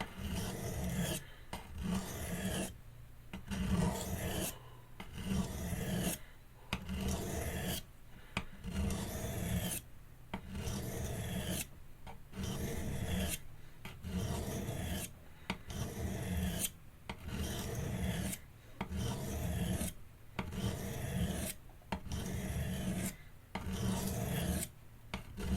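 Repeated rasping strokes of a blade sharpened by hand along its recurve edge, steady back-and-forth scraping with brief gaps between passes, close and clear with no voices.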